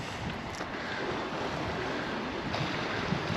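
Sea waves wash onto the small beach at Son Caliu in Mallorca, a steady soft hiss of surf with gentle swells and some wind noise, fairly faint and with no voices.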